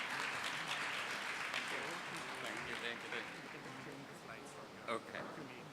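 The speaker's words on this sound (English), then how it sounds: "Can I have a round of applause for him?" An audience at a Lakme Fashion Week event applauds a United Nations representative before his keynote, a broad wash of clapping that fades gradually, with voices talking over it.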